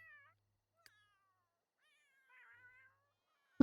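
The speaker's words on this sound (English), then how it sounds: "There's a lot of cats all of a sudden." Cats in The Sims 3 meow repeatedly, a couple of clear, thin cries spaced apart with quiet gaps between, ending in a sudden click.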